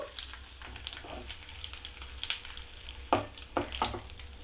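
Curry leaves frying in hot oil for a cabbage pickle, a steady close crackle and sizzle with a few sharp louder pops near the end.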